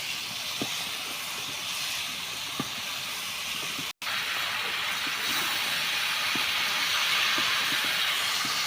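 Taro, eggplant and potato hit hot oil in a cooking pan, giving a steady broad sizzle that holds throughout, with a brief dropout partway and a few faint clinks of utensils beneath.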